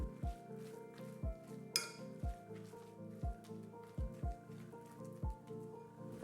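Grated pumpkin mixture being stirred in a bowl, soft squishing with a run of light clinks from a utensil tapping the bowl in a loose rhythm, close and quiet.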